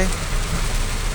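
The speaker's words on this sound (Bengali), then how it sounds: "খুব বৃষ্টি হচ্ছে।" A brief burst of heavy rain on a waterlogged street, a loud, dense hiss of downpour with no pauses.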